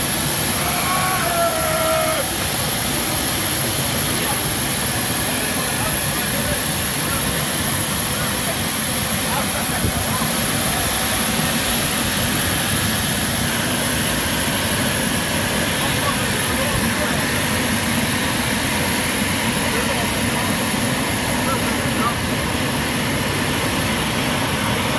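A modern airplane weighing 24 tons, with a steady loud jet engine roar and a constant high whine holding for the whole stretch, broad and unbroken.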